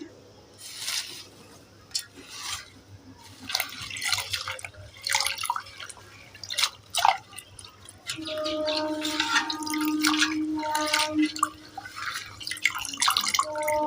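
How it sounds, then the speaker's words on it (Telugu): Curry leaves are washed in water, dripping and splashing in small bursts as they are swished and rinsed, with gentle sloshing and trickling through most of the stretch. "ఇప్పుడు వాటర్లో క్లీన్ చేసేసుకుందాం"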